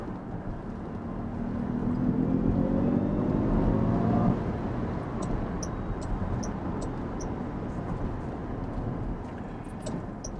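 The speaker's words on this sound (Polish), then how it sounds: "na samochód, który waży grubo ponad 2 tony, to jest coś fantastycznego, jak to się zbiera." An electric Jaguar I-Pace weighing well over two tonnes accelerates hard, its rising electric whine and road rush building over four seconds and then fading into steady cabin noise.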